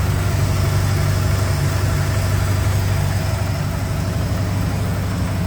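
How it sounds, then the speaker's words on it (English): A Ford F100 truck engine idles steadily and loudly with a deep rumble, running continuously at a fairly high, even pace with no talking. "There we go, she's idling pretty high."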